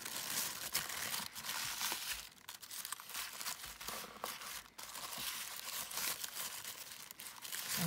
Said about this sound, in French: Emballé dans du papier soie.